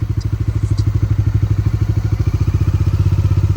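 A Bajaj Dominar 400 motorcycle sets off downhill on a road along Lattu Pahar toward Dharara Falls, its engine thumping in a steady, rapid pulse up close and loud throughout, with no talking.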